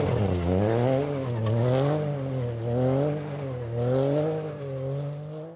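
A Ford Fiesta R2 rally car on a forest stage, its engine revving hard and rising and falling through gear changes as it passes fairly close, loud and continuous with no voices.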